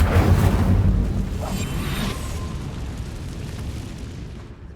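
Incendio fire spell cast in Hogwarts Legacy, a loud roaring burst of flame that booms at once and then slowly dies away over several seconds, heard alone.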